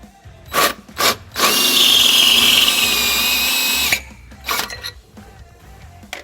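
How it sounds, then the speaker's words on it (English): A power drill bores out the rear hole of a trailer hitch canister on a 2015 Hyundai Elantra GT to 7/16, a loud, steady whine lasting a few seconds, bracketed by short bursts of drilling before and after. "now we're going to enlarge the rear hole in our canister to 7/16"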